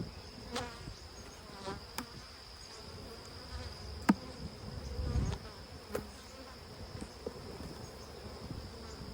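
Honeybees buzz faintly and steadily around an opened hive during an inspection, with scattered soft knocks and clicks from handling the frames and no talking.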